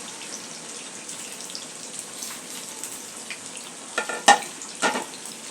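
Chicken pieces frying in a pan: a continuous, fairly loud crackling sizzle with a couple of sharp clatters from turning pieces near the end.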